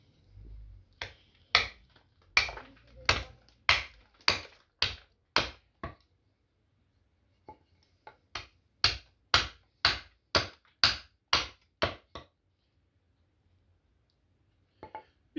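Adze chopping into a wooden spoon blank, giving crisp rhythmic strikes in two runs of about nine blows each, with a pause between and one last blow at the end.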